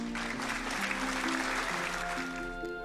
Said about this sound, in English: There are applause followed by appraising murmurs.